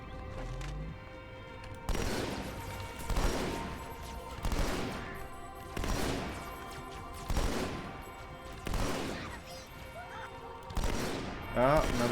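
Shotgun blasts in Halo 2, about seven heavy booming shots spaced roughly every one to two seconds, loud and close, each trailing off before the next.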